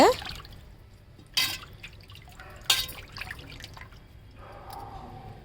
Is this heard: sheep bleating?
no